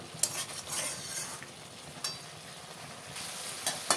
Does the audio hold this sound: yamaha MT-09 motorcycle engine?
no